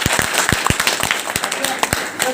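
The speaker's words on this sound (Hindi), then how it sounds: "तो एक बार जोरदार तालियां इनके लिए।" Scattered applause from a small audience at an Urdu daily newspaper office inauguration, a few loose, uneven claps with audible individual hits under a murmur of nearby voices.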